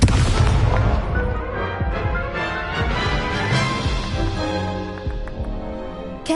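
A fire spell cast in the Hogwarts Legacy video game, heard as a loud, dense burst of crackling blasts and booming impacts with tonal game effects layered over it, sustained across the moment.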